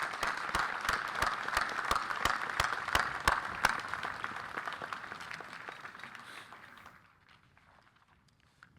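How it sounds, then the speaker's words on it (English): Crowd applause honoring volunteers at a cadet inspection ceremony, steady clapping with a few sharp louder claps standing out, fading out over the last couple of seconds. "a round of applause is in order for all of those who helped make"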